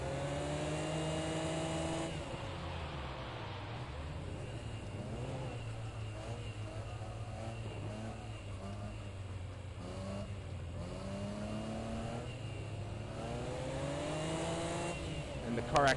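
A race car in the video game Project Cars 2 drones steadily with rising and falling engine tones through gear changes, a continuous close in-car sound with occasional faint tire noise.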